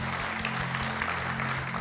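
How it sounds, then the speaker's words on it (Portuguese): Applause from a church youth-service audience at Rede Jovem, a steady wash of many hands clapping together at moderate level, with a low sustained hum running underneath throughout. "Uma salva de palmas para o Bolso, por favor."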